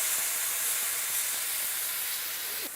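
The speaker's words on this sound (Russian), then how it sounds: "Теперь мы отправляем стейк, который у нас в масле и посоленный," A salted, oiled beef steak sizzles loudly in a frying pan, a dense continuous hiss and crackle throughout, close and steady with no talk.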